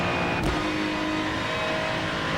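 A Lamborghini race car in a racing game roars steadily at high revs, a loud continuous engine drone with a brief swell near the start, no voices over it.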